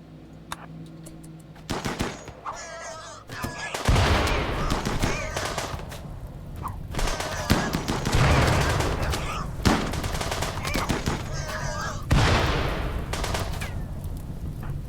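Gunfire in the video game RimWorld: rapid bursts of machine-gun shots and scattered single cracks in quick volleys, loud and dense through most of the stretch after a quieter opening.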